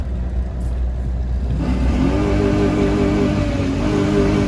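A 2000 Chevrolet Silverado with a muffler delete and a bad 4L60E transmission revs loudly up close, its raw exhaust note climbing from a rough idle into a sustained, rising roar.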